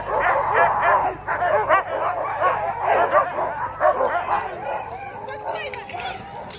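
Siberian husky sled dogs at a winter sledding spot yipping and barking excitedly in rapid overlapping bursts, close and loud, with people talking.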